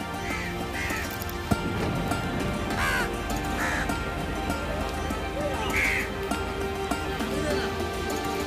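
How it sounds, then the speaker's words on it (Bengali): A flock of crows gathered at a village shop where they are being fed fried snacks, with repeated harsh caws coming from several birds, some near and some farther off, under ongoing human chatter and background bustle. "দেখো কতগুলো কাক এসে হাজির রয়েছে"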